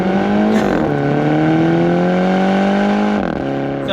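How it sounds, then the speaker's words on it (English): An automatic Mini Cooper with a 7-speed transmission accelerates hard, its engine note climbing then dropping sharply at two quick upshifts, loud and close from inside the car. "Where the 7-speed transmission snaps through gears super quick."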